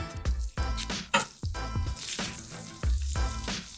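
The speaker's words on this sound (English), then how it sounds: "So let's put our vegetables in our pan." Frozen vegetables hitting a pan of hot melted fat, bursts of sizzling and spattering with clattering as they are tipped in, close and uneven.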